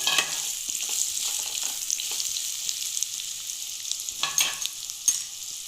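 Chopped raw mango pieces sauteed with cumin seeds in a hot pan give a steady close sizzle, with scraping stirs and a few sharper clinks. No one speaks.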